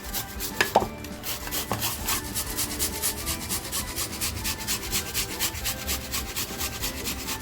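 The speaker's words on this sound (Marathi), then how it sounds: "आहे ना हा कांदा मी किसून घेणार आहे" An onion is grated by hand for a steamed surmai fish curry: quick, even rasping strokes repeat about three times a second, close and moderately loud. A couple of sharper knocks come near the start, with no talking.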